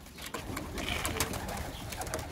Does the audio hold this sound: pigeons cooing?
yes